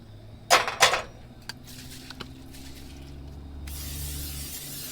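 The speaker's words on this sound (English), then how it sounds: "We'll get our butter spray loaded down." Butter spray is pumped from a bottle in two quick, sharp hisses, followed by a few faint clicks and a soft steady hiss in the background of a quiet van interior.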